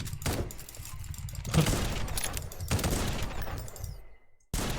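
Revolver shots at a firing range in the video game Project Genesis, a few sharp, loud blasts spaced about a second apart, each followed by a ringing tail, ending in a brief silence before one more shot.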